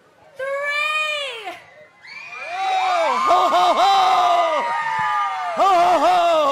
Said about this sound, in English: When Santa comes on the stage, we'll give him a big cheer